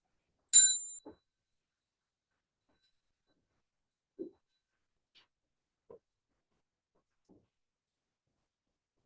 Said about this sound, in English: When Satya rings a bell, we'll bow to each other